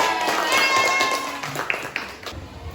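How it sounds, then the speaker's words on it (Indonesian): Second-grade schoolchildren in a classroom clap together, a short, busy patter of small hands that thins into scattered claps, with children's voices faintly under it. "Tepuk tangan."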